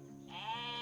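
A sheep bleats once in a video game, a single drawn-out, wavering cry rising over a low steady background hum.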